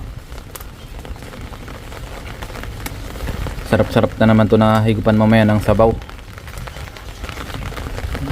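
Steady rain falls outdoors during the rainy season, a constant hiss of drops across the whole stretch while someone talks over it partway through.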